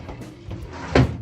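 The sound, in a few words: hotel room drawer jamming as it is opened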